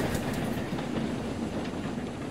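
A heavy train rumbles past with rhythmic wheel clatter and a low steady roar, close and loud throughout the short stretch.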